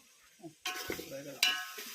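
Chicken frying directly in a pan rather than a pressure cooker, giving a sizzling burst after a quiet start, with a sharp scrape or stir partway through and the frying continuing steadily to the end.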